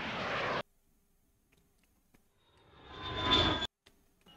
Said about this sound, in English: I used a plane and I just made it go, meow, made it go quiet, loud, quiet